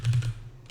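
A computer keyboard clacks in a quick burst of several keystrokes, a pause, then another short run of key presses, close and distinct with no talking while a code snippet is typed.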